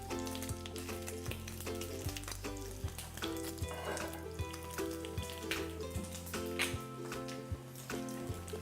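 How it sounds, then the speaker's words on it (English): Short ribs sizzle steadily in a hot saute pan with peanut oil, ginger and garlic, a continuous crackling fry with sharp pops, while faint background music plays underneath. "I like to put it in a saute pan really quick just to get it a little caramelized."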